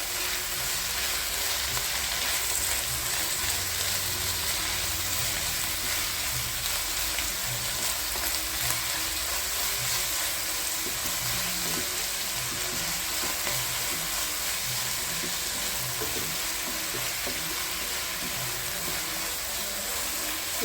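Fenugreek greens sauté in a pan with a continuous dense sizzle that holds evenly throughout, with faint stirring underneath.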